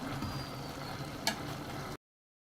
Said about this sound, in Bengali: এখন এগুলো সবগুলো দিয়ে আবার সুন্দরভাবে ভাজা ভাজা করে নিব